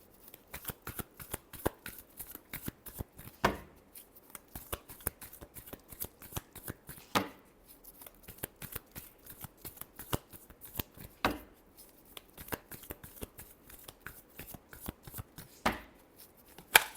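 A deck of tarot cards is shuffled by hand, giving dense, quick riffling flutters punctuated by sharper slaps every few seconds, close and clear with no talking.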